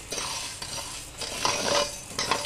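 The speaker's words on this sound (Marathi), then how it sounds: "पाव किलो साबुदाणे आपण मस्तपैकी भाजून घेणार आहोत बारीक गॅसवर" Sago pearls being dry-roasted in a pan over a low flame, stirred with a spoon that scrapes and rattles in irregular strokes, with the dry grains shifting audibly; close and moderately loud, with no voices.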